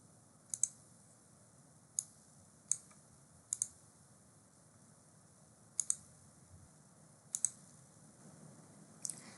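Sharp mouse clicks at a computer, seven or so spaced irregularly a second or more apart, most of them doubled, crisp and close over a faint room hiss, with no talking.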